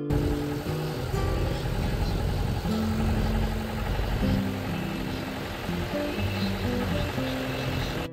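A powerful jeep engine labours steadily on a steep hill road near Kanthalloor, Munnar, a continuous mid-pitched drone with shifting tonal whine, loud and close for the whole stretch, no talk over it.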